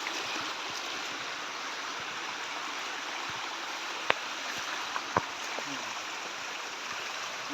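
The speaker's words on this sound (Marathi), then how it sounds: "तिथं हा जिवंत झरा अशाप्रमाणे झुळझुळ वाहत आहे त्याचा आवाज ही अगदी मनमोहक आहे" A steady, gentle rush of water from a living spring stream in the Konkan countryside flows evenly throughout, with a few faint clicks and knocks scattered across it.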